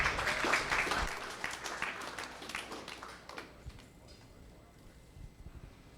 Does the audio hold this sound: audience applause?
yes